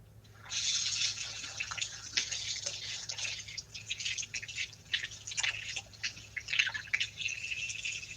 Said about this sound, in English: So now I'm just stirring my mask. It does come in a powder form, and then I add water